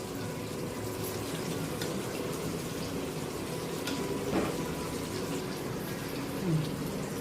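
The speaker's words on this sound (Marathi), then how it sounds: "आणि आता ह्याच्यात आपण गरम पाणी घालूया." Hot water poured into a cooking pot holding chilli masala, salt, rice flour and raw mango for a mushi fish curry, giving a soft, continuous watery rush at low level with a couple of faint clinks.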